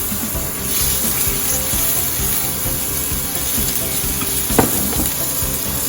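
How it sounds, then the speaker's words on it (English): Ground beef sizzles steadily in a hot oiled pan, a dense close frying hiss with a brief clatter of stirring near the end and no talk. "So now the cooking oils have been heated up. The pan has been hot. I'm going to go ahead and put in my ground beef."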